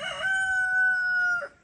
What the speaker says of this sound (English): A friend of ours gave us six roosters.